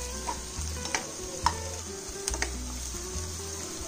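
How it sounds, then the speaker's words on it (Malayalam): Ginger garlic paste sautéing in a pan, a steady low sizzle broken by soft scraping stirs and a few sharp clicks of a utensil against the pan, close and with no talking. "എടുത്തു വെച്ചിരിക്കുന്ന ജിഞ്ചർ ഗാർലിക് പേസ്റ്റ് ഇട്ട് കൊടുക്കാം. എന്നിട്ട് നന്നായിട്ട് വഴറ്റിയെടുക്കുക ബ്രൗൺ നിറമാകുന്നത് വരെ."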